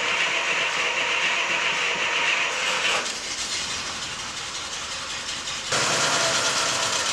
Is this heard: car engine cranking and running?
yes